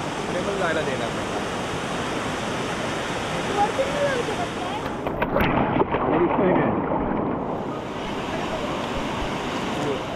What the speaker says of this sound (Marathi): कंटिन्यू वाहतं पाणी आहे, आम्हाला पण घेऊन चाललंय पुढे